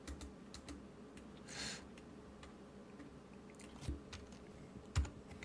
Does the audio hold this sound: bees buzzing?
no